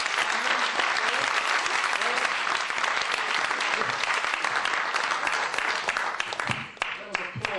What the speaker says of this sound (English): That was applause.